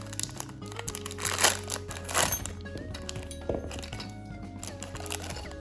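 A Beyblade toy package being unboxed, plastic wrapper crinkling and crackling in soft close bursts, with occasional light clicks and thunks of handling, no talking.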